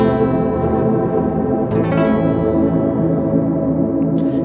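Microcosm guitar pedal on its haze effect, fourth preset, turning a played guitar phrase into a dense, lush wash of reverb and echo that sustains steadily throughout, with no talking.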